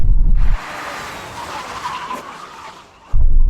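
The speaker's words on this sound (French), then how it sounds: "Maintenant, test de freinage à 100 miles par heure." An SUV's tires skid under emergency braking from 100 mph during a drag-race test, a sustained squealing hiss lasting about two and a half seconds between louder low rumbles at either end.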